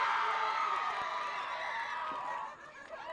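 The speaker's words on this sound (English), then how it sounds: "You can hear the crowd noise" A softball crowd at a section championship game, Maple Grove at Centennial, cheering and whooping after a hit into left center field, a steady roar of voices fading slightly toward the end.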